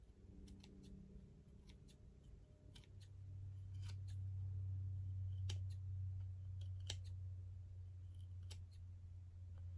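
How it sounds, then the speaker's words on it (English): Small scissors snip pilled fibers off a mantle clock in a quick series of crisp, close clicks over a faint low hum that grows steadier midway, no talking. "I'm just trimming off the little edges that are pilled"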